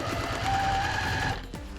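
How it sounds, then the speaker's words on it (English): Sewing machine backstitching along the border of a quilted table runner, a close, steady mechanical whir for just over a second before it stops, with no talking. "I always backstitch on my borders"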